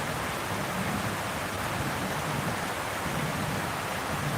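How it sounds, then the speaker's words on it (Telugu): Heavy rain falls outdoors as a steady, soft, continuous hiss that keeps an even level, with no voices over it. "కొద్దిగా వాన ఇప్పుడు గట్టిగా పడుతుంది"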